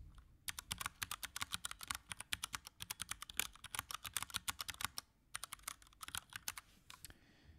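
Fingers type quickly on mechanical keyboard switches, making dense, crisp clicks in rapid bursts with a short pause midway. The typing is close but quiet, with no voices.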